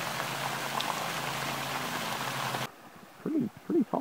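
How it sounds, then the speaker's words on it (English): Steady rushing roar of the 14-foot Raging Falls in a wooded Indiana nature preserve fills the first part, then cuts off abruptly to quieter surroundings with a few short tonal calls. "Here's the Raging Falls. It's a 14-foot waterfall."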